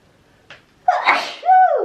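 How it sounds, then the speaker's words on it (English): One person sneezes indoors, a short sharp intake followed by a loud, close burst and a trailing voiced exhale. "I want to sneeze again."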